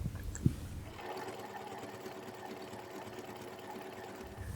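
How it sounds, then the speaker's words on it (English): A sewing machine stitches the side seams of a beige dress. Its steady mechanical whir runs close and continuous for several seconds, after a brief soft click. "going to start by sewing the side seams"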